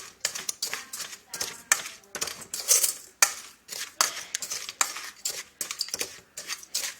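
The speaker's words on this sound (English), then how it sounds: "Keep stirring until it turns" Palm sugar sauce stirred in a pan for sweet and sour egg roll dip, a steady run of close, quick scraping and clinking strokes of a utensil against the pan, uneven in rhythm and heard alone.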